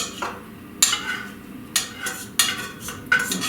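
Drained canned white crab meat being put into a bowl, heard as a few sharp clinks and scrapes of a utensil against the can and bowl at irregular intervals, close and quiet otherwise.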